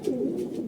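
A racing pigeon coos softly and continuously in a low, rolling murmur, close by and fairly quiet.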